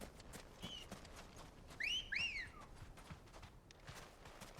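In Final Fantasy 16, the character whistles to call a chocobo with two quick rising-and-falling whistle notes, clear and close, over a faint game ambience.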